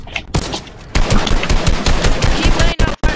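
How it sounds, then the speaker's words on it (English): Rapid automatic gunfire rings out in a shooter video game. Dense, loud bursts of shots follow one another almost without a break, cut by a few sharp gaps near the end. "Keep laying down fire! Lay down fire!"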